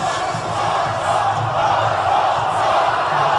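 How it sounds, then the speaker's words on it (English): Stadium crowd cheering for Ron Paul, a loud, sustained roar of many voices with shouts blending into a dense, continuous wall of noise from start to finish. "the cheering is happening here for Ron Paul in the stadium."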